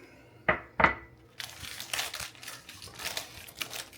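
Wax paper crinkles while cannabis-infused tortillas are being made with lard: two sharp crackles, then a stretch of close, irregular rustling and crinkling, with no talk.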